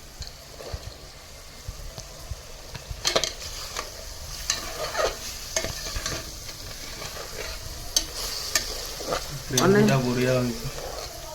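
Soya chunks sizzle and fry in a pan with repeated scraping stirs, a louder hiss swelling near the end; a voice murmurs faintly in the background.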